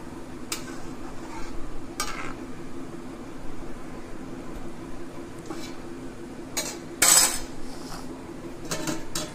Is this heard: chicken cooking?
yes